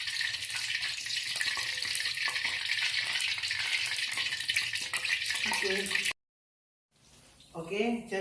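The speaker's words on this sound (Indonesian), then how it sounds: "jadi untuk penggorengannya, untuk normalnya itu 10-15 menit sampai benar-benar garing" Food deep frying in hot oil until crispy, a loud steady sizzle filling most of the clip before a brief silence, then softer sizzling returns under a voice speaking.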